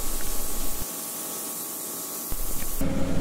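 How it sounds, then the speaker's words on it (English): An EcoQuip Vapor Blaster abrasive-blasting rust and corrosion off metal during cooling tower repair: a loud, steady close hiss of spray that briefly drops in intensity, then resumes. "We use the EcoQuip Vapor Blaster to remove all rust and corrosion."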